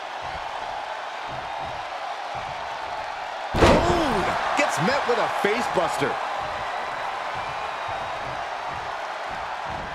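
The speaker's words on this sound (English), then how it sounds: "The sound of this crowd is deafening" Wrestling arena crowd roaring at a WWE Backlash 2009 match: a loud sustained roar erupts after a heavy slam and keeps surging in excited cheers while a commentator talks over it.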